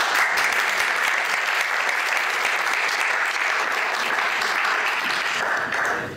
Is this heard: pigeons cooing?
no